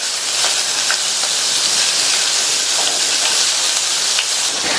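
Beetroot and green peas are stir-fried in a pan for a poriyal, giving a steady, close sizzling hiss with faint scraping clicks and no talk.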